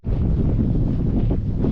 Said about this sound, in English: Wind isn't too bad.